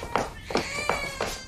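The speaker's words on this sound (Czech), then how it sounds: "To je jenom kočka." A house cat meows four times in a steady, evenly spaced sequence, each call clear and close with a rising-falling tone.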